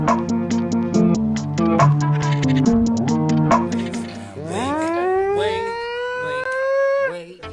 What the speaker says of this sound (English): I'm hitting that siren at that moment